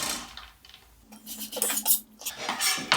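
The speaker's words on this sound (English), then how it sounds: "And I transfer it all in a bowl, like this." Metal cutlery scrapes and clinks against a bowl as food is transferred into it, a short cluster of bright, irregular taps and scrapes, close and fairly loud, with no talking.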